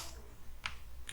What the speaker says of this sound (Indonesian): kemudian kita tekan pada keyboard